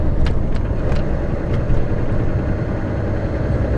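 Lorries queuing at night past 9 pm with engines running, a continuous low rumbling idle close by, steady and unbroken, with faint clicks and knocks on top and no talk.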